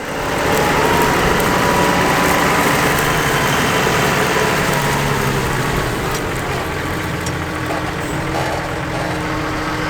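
Tractors working a field at a ploughing match in Rearsby, old and new machines, a loud continuous diesel engine drone close by, steady and unbroken with low rumble throughout, no talk.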